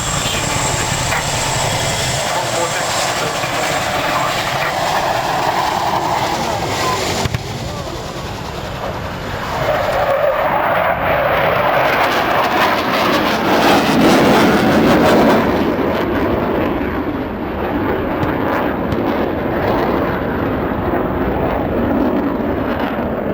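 Military aircraft roaring in during an air show battle demonstration at Cosford, a loud sustained jet rumble that swells as it passes close, with commentary over a public address underneath.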